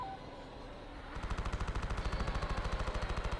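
Rapid turret fire in Star Wars Battlefront 2, a steady fast stream of punchy shots starting after a quiet second and continuing loud and rhythmic to the end.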